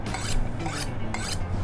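A zucchini has its green skin shaved off with a peeler in a kitchen, producing a close, dry rasping scrape in repeated strokes about every half second, with no talking.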